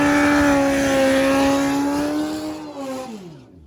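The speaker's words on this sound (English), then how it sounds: "Big burnout" Drag race car doing a big burnout on a slippery track: a loud, sustained high-revving engine tone that holds steady, then drops in pitch as the revs fall away and fade near the end.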